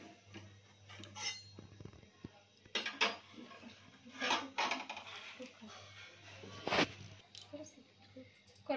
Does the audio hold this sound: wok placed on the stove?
yes